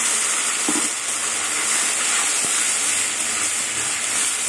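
Onion paste, ginger and garlic hit a hot pan over fried onions, producing a constant loud sizzling hiss with a couple of soft knocks.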